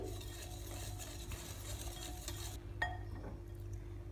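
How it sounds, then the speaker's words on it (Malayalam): Bread dough mixture for a Nutella braided loaf being whisked in a bowl, a soft continuous scraping and stirring with a low steady hum beneath and a few light clinks near the end. "ഇനി ഇതുപോലൊരു വിസ്ക് വെച്ച് നന്നായി ഒന്ന് മിക്സ് ചെയ്ത് കൊടുക്കാം"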